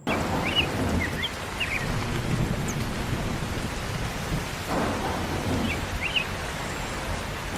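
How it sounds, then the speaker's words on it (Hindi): A cartoon storm with steady, heavy rain hissing throughout and low rumbling thunder beneath it, loud and continuous with no voices. "दरवाजे खिड़कियां बंद कर दे, तूफान और बारिश आ रही है"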